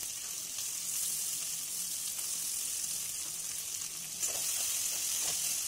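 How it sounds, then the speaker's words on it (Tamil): Curry leaves, green chillies and onions sauté in hot oil with a continuous close sizzle and faint stirring, no voices. "அது நல்லா வதங்கினோன்னே பச்சை மிளகாய், வெங்காயம் எல்லாத்தையும் சேர்த்து நல்லா வதக்குங்க"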